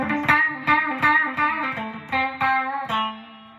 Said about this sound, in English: all I did was put on some distortion